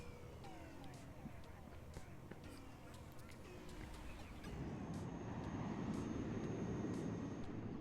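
An attack helicopter fitted with gun pods flies over a battlefield in the wargame WARNO, its steady rumble thickening and growing louder midway, with scattered clicks and battle sounds around it.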